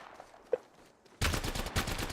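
Semi-auto Havoc rifle fire in a video game, a dense burst of loud close gunshots starting partway in after a quieter lead-in with one soft thump, continuing in rapid succession to the end.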